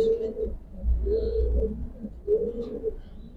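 Racing pigeons coo in low, throaty rolling phrases, three bouts repeating with short gaps, close and clear with no talk over them.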